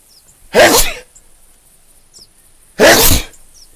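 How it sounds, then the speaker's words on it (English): Two sharp sneezes from a character in the hunting video game theHunter Classic, close and loud, separated by a couple of seconds of near silence. "Sneeze."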